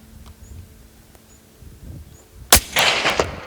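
A single sharp rifle shot rings out during a plains game hunt in Africa, loud and close, after a quiet stretch of faint ambience, followed by a lingering rumble of the report.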